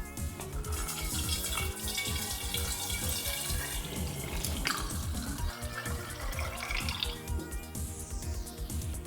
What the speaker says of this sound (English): let's wash this jug out really well